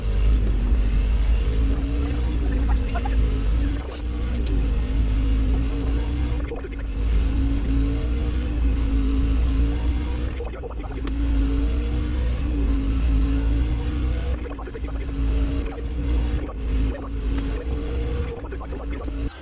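A Toyota truck engine in a NASCAR Truck Series racing game during practice at Dover Speedway, a continuous low droning hum that holds fairly even, with brief dips and slight swells in pitch.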